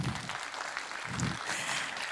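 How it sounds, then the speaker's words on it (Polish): Applause from an audience at a children's theatre performance in a municipal cultural centre, an even, moderately loud spatter of clapping throughout the short stretch. "Wielkie brawa dla Was!"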